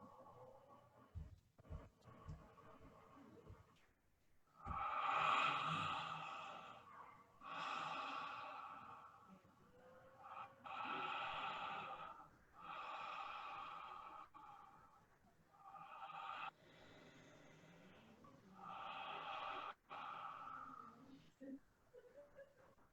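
Deep rhythmic breathing during a breathwork exercise, about six long, loud, airy breath cycles with strong inhales and exhales through the nose and mouth, close up and spaced a few seconds apart.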